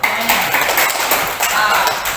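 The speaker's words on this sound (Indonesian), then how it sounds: "Oke, tepuk tangan dulu." Students in a classroom give a burst of applause for a classmate's answer: a steady, fairly loud patter of many hands clapping for about two seconds, with faint voices underneath.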